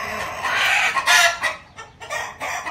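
A desi gavran (country) hen, held in the hand, gives loud close clucks and squawks in quick uneven bursts with short gaps between them.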